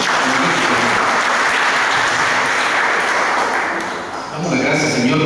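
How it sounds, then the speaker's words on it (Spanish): A church congregation claps loudly and steadily in a dense, sustained wave of applause during a family worship service, with a brief dip near the end before the clapping swells again. "Denle un fuerte aplauso al Señor."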